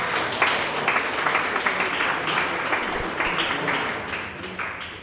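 Corporate audience at a company event breaks into applause, a close, dense patter of many hands clapping that swells briefly and then slowly thins out.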